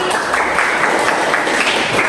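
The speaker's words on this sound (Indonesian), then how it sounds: "Tepuk tangan untuk Jeffrey." A crowd claps in a dense, steady patter of applause, even in loudness throughout, with no voices standing out.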